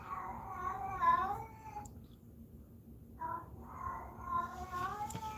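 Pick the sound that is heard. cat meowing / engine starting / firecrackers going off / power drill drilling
cat meowing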